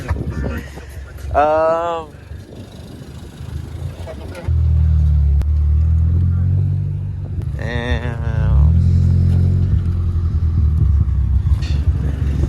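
A car engine starts up about a third of the way in, then holds a steady, deep, loud rumble close by as people chat over it.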